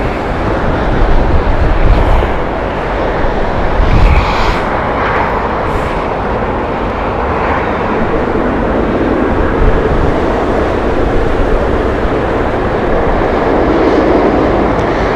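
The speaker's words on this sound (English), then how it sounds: "This is Air Canada 777 that we're watching" An Air Canada Boeing 777 taxis at Heathrow, its jet engines giving a steady, loud broadband roar mixed with distant airport rumble throughout.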